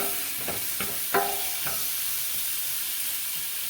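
Shrimp and onions sizzle in a hot pan with a steady, bright frying hiss, broken early on by a few soft knocks of stirring.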